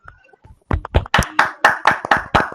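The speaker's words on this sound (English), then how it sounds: "Big round of applause, everybody." Applause from a speaking-club audience after a member's improvised talk, starting as a few scattered claps, then settling into a run of distinct, fairly loud close-by claps in a steady rhythm with no talking.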